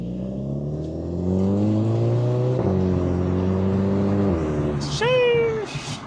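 A Volkswagen Jetta GLI's exhaust drones steadily with a strong, tonal hum while driving. Near the end it rises in a short rev with a sharp upward-sweeping pitch.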